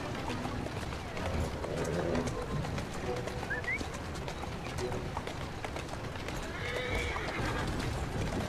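A horse in the video game Assassin's Creed Syndicate, set in London, neighs briefly amid steady clip-clopping hooves and a busy ambient background, with birds faintly in the mix.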